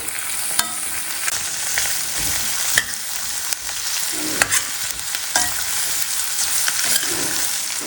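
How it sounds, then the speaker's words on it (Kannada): Onions and green chillies sizzle in a pan for a tomato gojju, a continuous bright crackle with repeated scraping strokes of a spatula at a steady, close, moderately loud level. "ಈರುಳ್ಳಿ ಚೆನ್ನಾಗಿ ಮೆತ್ತಗಾಗೋವರೆಗೂ ಬೇಯಿಸ್ಕೋಬೇಕು"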